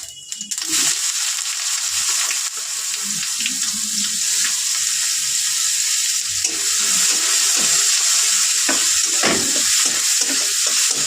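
Whole cumin seeds and onion frying in hot oil, a loud continuous sizzle up close with occasional soft scrapes of a spoon through the pan.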